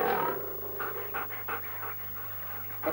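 A dog pants in quick, rhythmic bursts close by, the breathy huffs repeating steadily over a low background hum.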